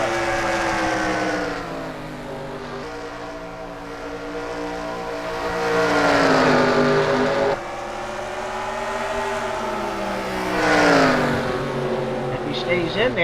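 Stock cars racing at Bristol in a heat race: a steady, loud, droning roar of multiple engines with rising and falling pitch as cars pass, under a continuous commentator's voice.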